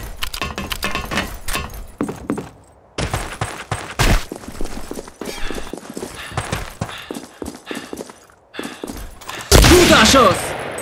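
Kar98k bolt-action rifle gunshots in the online shooter Karma Online, a free-for-all match: loud sharp cracks and clattering bursts scattered across a busy battle mix, with a voice shouting over the action.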